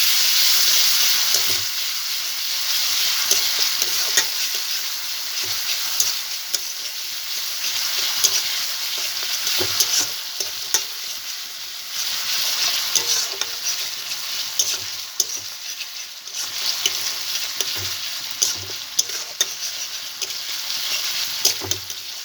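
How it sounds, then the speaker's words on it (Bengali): Ground onion paste frying in hot oil in a pan for prawn malai curry, a continuous close sizzle with regular scraping strokes of a stirring spoon, no voices. "আমি দিয়ে দেব এখানে পেঁয়াজ কুচি। পেঁয়াজগুলোকে আমি একটু বেটে নিয়েছিলাম।"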